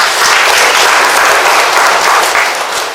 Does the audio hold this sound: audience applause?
yes